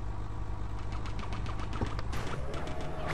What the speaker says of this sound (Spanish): me estoy gastando todas mis balas de metralleta y nada